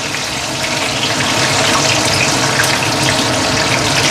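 Eggplant skin fries in hot oil for Indonesian terong penyet, a loud, steady, dense sizzle with constant crackling and no pauses.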